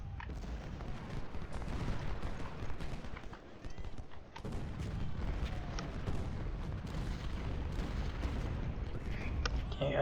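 Artillery guns and rifles firing in a Civil War battle in the Ultimate General: Civil War strategy game, a steady rumble of distant cannon booms and crackling musketry over ten seconds, with faint hoofbeats mixed in.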